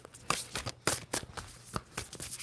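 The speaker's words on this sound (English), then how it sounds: "2 more shuffles for Sagittarius." A tarot deck being shuffled by hand, a string of quick papery riffles and slaps in irregular bursts, close and fairly quiet, with no speech.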